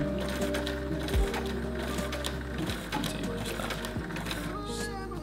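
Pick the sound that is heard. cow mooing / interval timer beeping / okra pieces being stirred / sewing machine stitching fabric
sewing machine stitching fabric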